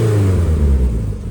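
GMC Sonoma pickup truck engine idling after repair work, a steady low rumble with a slight rev, close and loud throughout with no voices.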